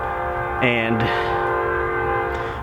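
A train rumbles steadily past while its horn blasts once in a loud harmonic chord; a single spoken word is heard.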